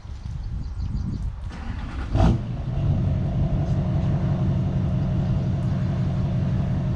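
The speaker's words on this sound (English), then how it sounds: "Maddie, just drive it around slow, okay?" A 1963 Impala parts car creeps along very slowly: a close, low engine rumble that swells after a brief thump and then holds steady.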